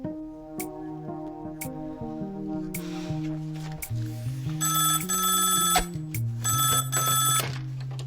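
A telephone rings repeatedly in bursts, bright trilling rings over a steady musical underscore, loud and close with no talking.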